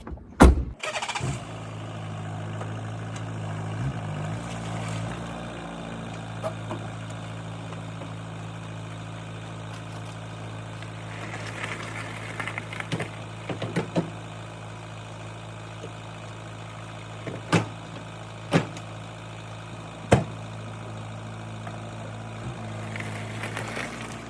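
A car towing a full trailer starts with a sharp burst, then idles and drives with a steady low engine hum in the cabin, broken by a few scattered clicks and thumps.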